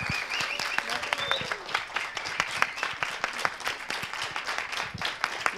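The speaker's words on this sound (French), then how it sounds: "je voudrais qu'on félicite et qu'on applaudisse Eden" An audience applauds steadily at a France–Brazil dialogue event, a dense wash of many hands clapping close by and carrying on without pause for several seconds.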